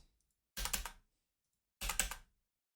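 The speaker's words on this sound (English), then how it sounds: "There's a lot of typing." Two short bursts of rapid computer keyboard typing, close and clear, separated by a second of silence.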